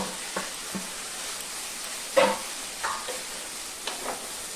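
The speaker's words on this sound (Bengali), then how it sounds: "আমি এখন মোচাটা দিয়ে দিব।" Banana flower dropped into a pan of well-fried spice masala for mocha ghonto, giving a few soft sizzles and stirring scrapes, with one louder burst of frying in the middle, close by and fairly quiet.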